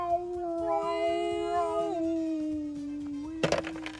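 A human voice imitates whale calls with long, sliding, moaning tones that slowly drop in pitch. The sound is close and alone, ending in a short burst of noisy clatter.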